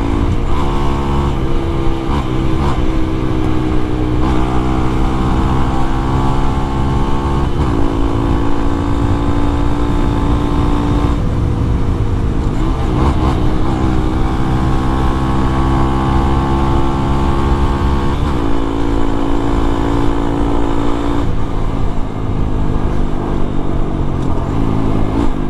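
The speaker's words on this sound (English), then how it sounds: "I can't think of a better way to relax than go take a little cruise around on the Grom." A Honda Grom motorcycle cruising, its small engine droning steadily and loudly close up, with gear shifts and rises and falls in revs over wind rush.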